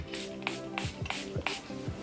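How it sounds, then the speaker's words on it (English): Milani Make It Last makeup setting spray is pumped in several quick, short hissing bursts, each with a soft click. The bursts come close to the ear and are fairly faint, over a quiet steady tone. "This is the Milani Make It Last setting spray"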